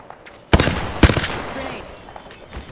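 Video game gunfire rings out as two sharp, loud shots about half a second apart, each trailing into a ringing, rattling decay. A faint third report follows over low ambient noise.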